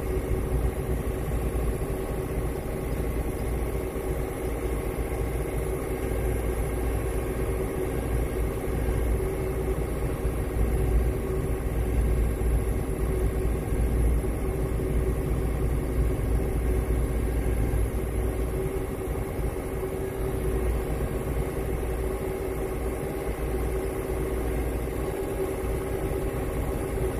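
A tractor engine idles steadily and loudly throughout, a constant low, rumbling drone with no talking.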